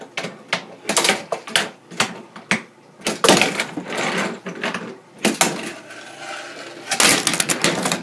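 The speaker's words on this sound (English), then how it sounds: "gonna do a nose grind." A handboard doing a nose grind on a wooden board: a series of close, sharp wooden clacks and taps, then a longer scraping grind of the board sliding along, followed by more knocks, with no talk.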